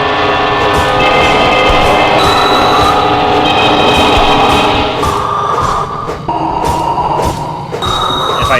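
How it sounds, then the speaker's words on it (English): A train in the horror video game Lost in Vivo rumbles loudly and continuously, with a dense metallic roar, grinding squeals and repeated sharp clanks, and no talking over it. "I'm going to take on the next train with my hammer"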